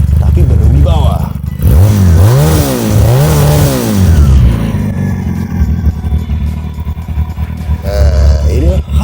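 A Benelli PE250 fuel-injected motorcycle engine idles with a deep throb, then revs up twice in rising, falling sweeps before settling back to a rumbling idle, close by.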